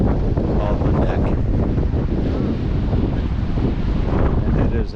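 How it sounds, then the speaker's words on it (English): Strong, steady wind roars across the microphone on a hilltop above the Neck on Bruny Island, Tasmania, in a continuous loud rumble and hiss. "it is actually rather windy up here"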